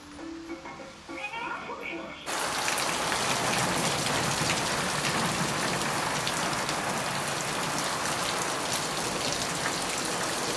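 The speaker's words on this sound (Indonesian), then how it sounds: "Kali ini kan kita hujan udah sepanjang hari ya" Steady rain falling after a full day of downpour, a dense, unbroken hiss and patter that starts abruptly and stays loud throughout.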